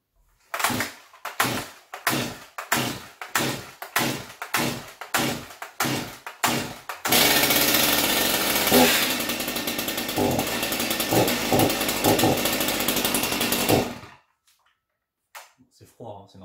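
A Stihl MS201 TC M-Tronic chainsaw started cold: a run of repeated sharp starter-cord pulls, then the engine catches and runs loud with revving bursts for several seconds before cutting off abruptly.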